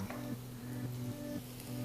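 Finely chopped garlic and ginger sizzle in hot oil in a pan, with a steady close crackle and a low hum underneath throughout, and no talking.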